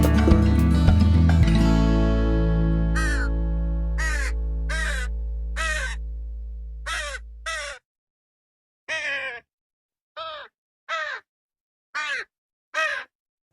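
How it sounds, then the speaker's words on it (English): Crows caw in a string of separate harsh calls, several spaced bursts following a sustained musical tone that fades out, with the later caws standing alone in silence; the setting is nature in Sweden. "The crows."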